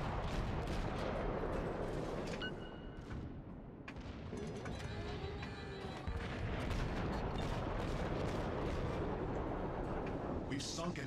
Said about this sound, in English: Turning to avoid the latest spread, I continue to fire shell after shell into the target.